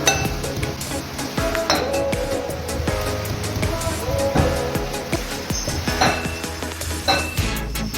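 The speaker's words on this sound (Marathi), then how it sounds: "तर आता हे सर्व मी कलबत्त्यात वाटून घेत आहे मिक्स करून" Spice mixture of chilli powder and salt for stuffed okra ground in a mortar and pestle, with rapid, continuous, close clinking and knocking strikes, loud and busy throughout.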